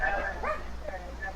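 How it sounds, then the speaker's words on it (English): Pet dogs yip and bark excitedly indoors in short bursts, close by, mixed in with a person talking over them. "My dogs are freaking out."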